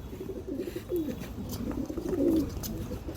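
Pigeons from Andhra Pradesh coo in low, rolling phrases, with a couple of louder coos standing out over steady background rustle.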